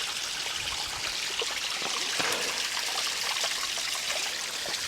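Water trickles steadily in a Utah desert canyon near an old homestead, a soft, continuous close-up dribble with no voices over it.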